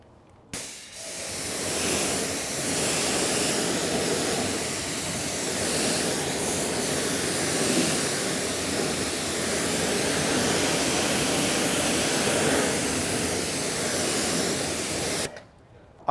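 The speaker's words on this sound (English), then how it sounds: "So the first thing that I want to do is rinse off the wheel." A hose sprays water steadily onto a car wheel for a rinse, a loud continuous hissing rush that starts abruptly and holds for about fifteen seconds before cutting off.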